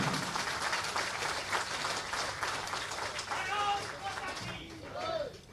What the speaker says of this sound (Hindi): ताली में यहां भी कंजूसी नहीं